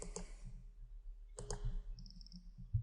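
Computer mouse buttons clicking while editing a spline sketch in SolidWorks: a few sharp, close double clicks spread across a quiet background, with a faint short electronic chirp near the end.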